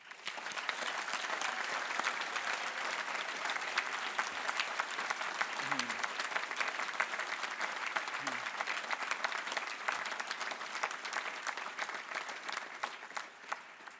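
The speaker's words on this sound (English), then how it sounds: "why don't we just have one big final round of applause for everyone." A graduation ceremony audience gives a long final round of applause, even, sustained clapping from a large hall heard from some distance, with a couple of faint low knocks beneath it.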